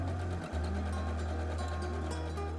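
A sewing machine stitching a seam on fabric runs in one continuous, even motor drone with a steady needle rhythm, loud and close, with a brief dip near the start and no voices over it.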